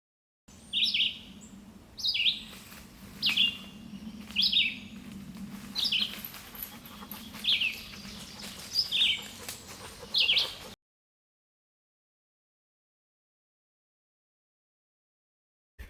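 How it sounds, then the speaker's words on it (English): Female sparrow singing from a bush directly overhead on a spring woodland trail, a series of about seven short, high chirping phrases repeated at regular intervals over a low background hum, then silence. "The bush is full of sparrows of all kinds. There's a female right above me here singing away."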